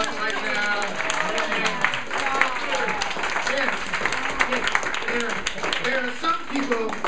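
Audience clapping at a spiritual talk on A Course In Miracles, many hands applauding steadily, while a voice speaks prominently over the applause throughout.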